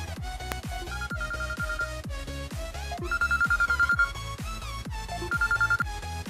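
A phone ringtone plays a repeating melodic chime pattern in regular cycles, clear and close, with no talking.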